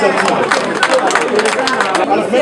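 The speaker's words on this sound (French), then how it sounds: "Si on peut applaudir très très très très fort pour cette initiative." An audience at a memorial ceremony claps loudly and steadily in a dense, continuous wash of sound, with crowd chatter mixed in throughout.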